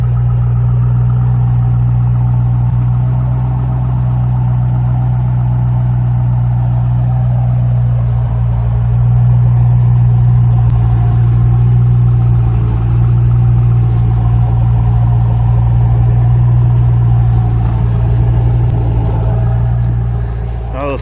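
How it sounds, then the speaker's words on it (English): A 2006 Ford Mustang GT with the 4.6L 3V V8 idles through a Flowmaster exhaust, giving a loud, steady, deep burble that holds even throughout, close to the car. "Listen to this exhaust purr."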